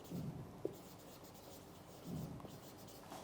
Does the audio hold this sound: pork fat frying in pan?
no